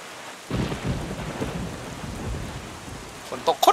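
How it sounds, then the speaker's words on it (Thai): Heavy rain and rolling thunder in The Legend of Zelda: The Wind Waker, a steady loud downpour that kicks in after a brief quiet start, with a few sharp crackling thunder bursts near the end. "ฝนตกอีกอ่ะ"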